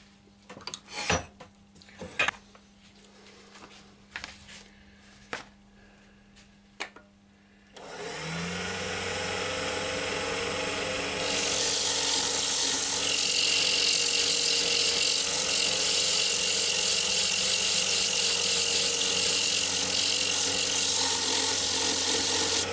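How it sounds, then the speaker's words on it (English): A wooden pencil bowl spins on a lathe while it is sanded: a few knocks and handling noises, then the lathe starts and a loud, steady abrasive whirring rises and holds to the end. "I'll get on with the sanding now."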